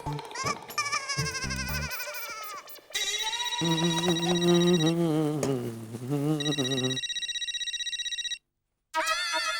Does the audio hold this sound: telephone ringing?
yes